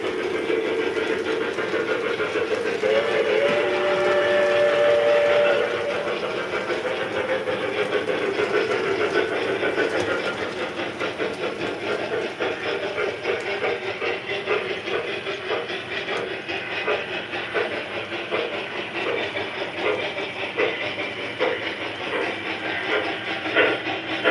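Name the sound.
steam locomotive engine chuffing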